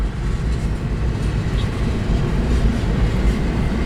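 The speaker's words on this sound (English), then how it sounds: "you can't see it with this train going by" A freight train with an MRL SD40-2 locomotive rolls past on the Needles Sub, a loud, steady, close rumble of wheels and cars with faint clickety-clack, no voices over it.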